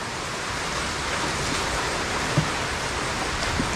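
Steady rain falls on an ampalaya (bitter gourd) farm, a dense, even hiss of broadband noise that holds constant throughout without a break, with no talking.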